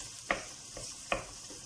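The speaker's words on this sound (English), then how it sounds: "I'm gonna put them in and then start to stir them to cook in the sauce." Pork pieces being stirred in Thai red curry sauce in a pan, soft sizzling broken by two distinct scraping stirs, quiet and close with no voices.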